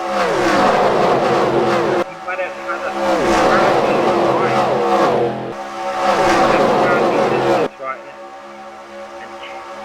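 Race car engines roaring and revving during an oval race, several cars sweeping past close with rising and falling pitch, loud bursts broken by sudden cuts, while an announcer talks over them.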